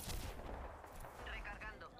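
Gunfire in the Apex Legends video game: a quiet burst of rapid, crackling shots sits under the faint game mix, followed by softer echoing blasts.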